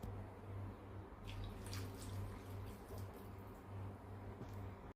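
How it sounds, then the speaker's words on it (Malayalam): Water runs and pours steadily over paneer in a container, a soft splashing stream over a low hum, quiet and close. "ഇതിലേക്ക് നമുക്ക് കുറച്ച് വെള്ളം ഒഴിച്ച് അല്പം നേരം ഒന്ന് വെക്കാം"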